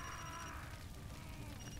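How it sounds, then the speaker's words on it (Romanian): A telephone rings inside the Far Cry 2 video game, a thin repeating electronic tone over a dense, rumbling wash of game noise with no clear talk. "Hai, răspunde la telefon."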